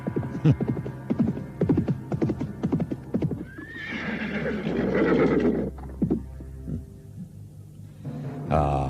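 A horse's hooves clop in a quick, close rhythm, then the horse lets out a long, loud neigh before the hoofbeats fade and a short sound closes the scene.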